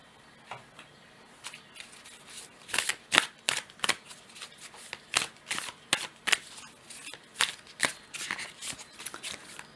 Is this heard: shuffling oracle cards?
yes